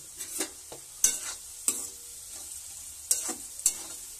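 Rice fries with salt in a pan for fried rice, a soft steady sizzle broken by several sharp scraping stirs of a spatula against the pan at irregular intervals, with no talking.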